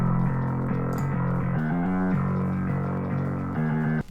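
Normal bass from a Doom Eternal style metal mix plays a rhythmic riff of repeated low notes with shifting pitch, steady and prominent, cutting off abruptly near the end.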